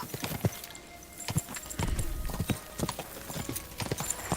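Horse hooves clip-clop in a steady, uneven rhythm in the medieval video game Kingdom Come Deliverance 2, each strike sharp and close, with a faint whinny-like texture and quiet background ambience.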